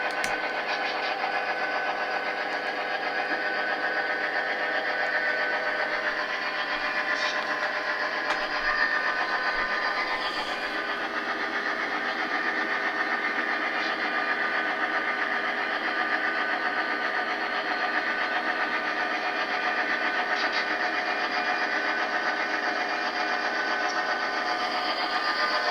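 A Bachmann HO Thunder Chief set's model train runs along the track through a small siding. It gives a steady, close electric motor whine and a faint rolling rattle that hold evenly for about twenty-five seconds without speech.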